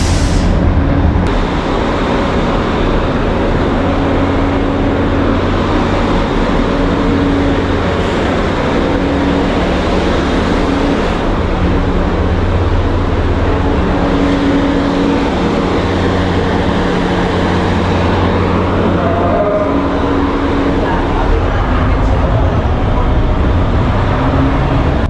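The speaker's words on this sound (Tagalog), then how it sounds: "Ingay pa nga dito guys kasi nasa barko na kami." Steady low engine drone aboard a ship bound for Pagadian in the Philippines, a continuous loud rumble with hum tones filling the whole stretch, no breaks or pauses.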